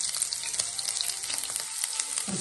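Chopped small onions and popped mustard seeds sizzle in hot coconut oil in a pan for a coconut egg curry: a loud, steady, crackling fry heard up close with no voices.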